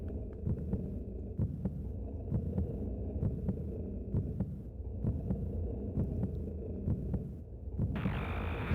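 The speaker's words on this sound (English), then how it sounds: "I can hear the heart beating." A slow, steady heartbeat throbs low and close in Final Fantasy XIV, a deep double pulse repeating about once per second under a constant hum, with no voices.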